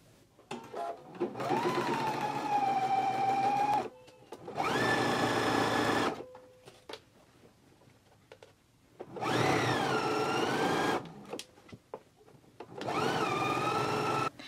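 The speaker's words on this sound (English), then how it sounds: "we can go to our sewing machine and stitch them in a 3/8 of an inch seam allowance" A sewing machine stitches pant pockets in four steady whirring bursts of about two seconds each, separated by quiet pauses and small clicks, heard close and alone.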